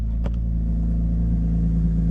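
A 1993 BMW E34 M5, a Euro-import M5CSI, sits at a steady idle with no throttle input, its low rhythmic engine rumble loud, close and even throughout, with a brief faint click near the start.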